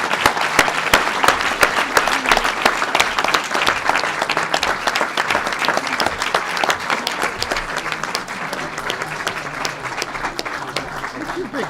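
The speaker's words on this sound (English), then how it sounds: "but we should give them a round of applause for their..." A room of people applauds lawmakers at a bill signing ceremony for the Pregnant Workers Fairness Act, with steady dense clapping that holds throughout and faint voices mixed in.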